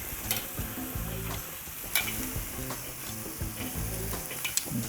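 Lamb chops searing on a 22-inch Weber charcoal grill, a continuous close hiss and crackle of fat with a few sharp pops and faint scraping, with no talking.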